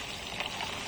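Bhetki fish fries in very hot oil, a soft, steady sizzling crackle that is faint and continuous through the short moment.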